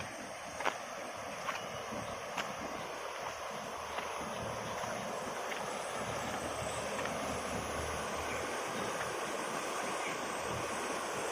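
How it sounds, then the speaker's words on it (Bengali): Water rushes steadily into a canal from a waterfall-like outflow after heavy overnight rain, a constant soft, distant roar with a few faint knocks. "আর ওখানে ঝর্নার আওয়াজ শুনছো"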